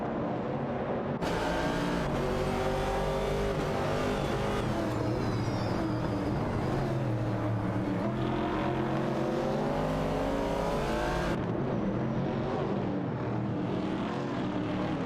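Several race cars from a racing video game roar past in a dense, continuous engine drone, with overlapping revving and pitch shifts as the closely packed pack heads into a turn, loud and steady throughout.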